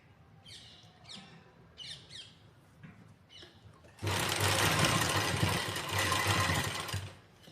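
Sewing machine stitching lace trim onto a dupatta, a loud continuous whirring run of about three seconds that follows a few seconds of quieter handling and faint chirpy sounds.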